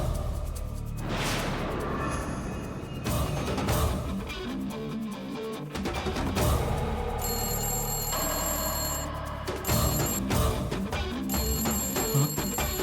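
A telephone rings in repeated bursts during a Telugu TV serial scene, sitting within a busy, full soundtrack rather than ringing alone.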